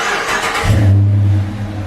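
A C4 Corvette engine, fresh from an alternator replacement, cranks, fires and settles into a loud, steady low rumble, close by with no talking.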